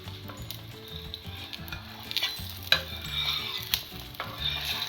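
An egg omelette fries in a pan with a steady, crackling sizzle. Repeated sharp scrapes and taps of a spatula against the pan cut through it, and there is no speech.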